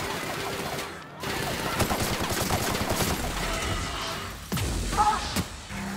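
Player's gun in The Outer Worlds fires rapid bursts of automatic gunfire, loud and close, broken by a short pause and sharp impact thuds, with a voice briefly talking over the shooting.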